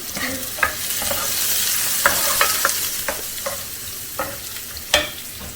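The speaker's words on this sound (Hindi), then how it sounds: "ये आवाज़ अच्छी लगती है ना आप लोगों को भी जब प्याज फ्राई होती है" Onions sizzle steadily in a hot pan, a constant hiss broken by scattered pops and the scrape of stirring.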